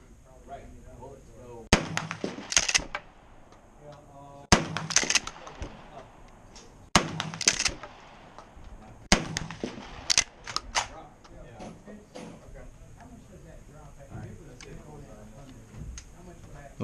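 Four 12-gauge slugs fired from a full-choke Winchester 1897 shotgun outdoors, each a sharp loud blast spaced a few seconds apart with a short decay, followed by quieter handling noise.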